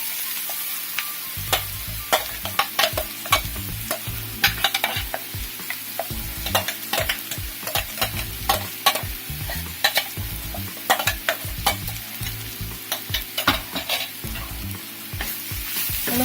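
Ground coconut paste stir-fried into banana flower thoran with dried red chillies in a pan, a steady sizzle under repeated sharp scrapes and clacks of a spatula, close and busy, no talk.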